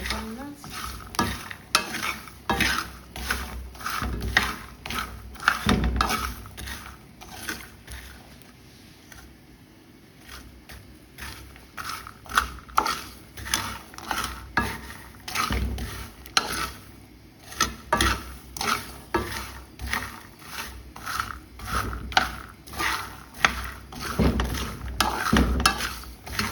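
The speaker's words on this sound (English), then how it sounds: "we have started real frying, and we have to keep stirring it, keep turning to avoid burning" Groundnuts fry in a pan while a utensil stirs and scrapes them. The scrapes are quick and repeated, near and steady over a soft sizzle, with a brief pause midway.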